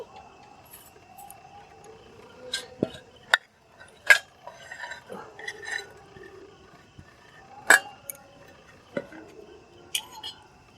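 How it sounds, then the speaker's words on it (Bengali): Boiled eggs being chopped finely with a metal spatula for crispy egg pakora: scattered sharp clinks and taps of the spatula striking the dish, irregular and fairly close, with quiet scraping between hits. "সবগুলো কুচি কুচি করে নেবো ডিম"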